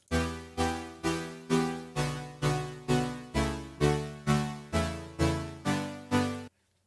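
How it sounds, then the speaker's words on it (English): A synth tone in Serum chopped into a steady stutter, about a dozen evenly spaced pulses, each swelling and cutting off, then silence. "we're actually ready to go creating this stuttering effect"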